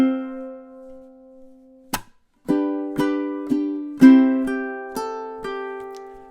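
Ukulele plays a riff: a held note rings and fades, then a sharp strum leads into a steady run of about six close, crisp plucked chords in an even rhythm.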